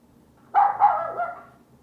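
A single dog bark sound effect plays in the Scratch program, a short two-pulse bark-whine that trails off over about a second in otherwise quiet surroundings.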